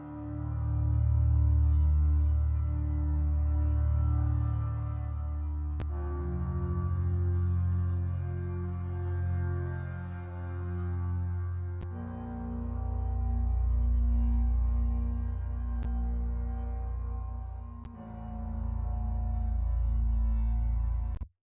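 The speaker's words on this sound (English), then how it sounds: "I've added just a basic drone bass sound," A basic drone bass sound from a breathwork music piece: a deep, sustained low tone that swells and shifts slowly over gentle layered pads, playing alone without voices.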